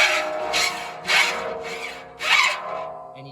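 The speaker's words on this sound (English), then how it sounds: "you can hear the file kind of just skip across it" A hand file skipping across a ground saw tooth, giving close, rough rasping strokes with three stronger scraping bursts about a second apart and no voices.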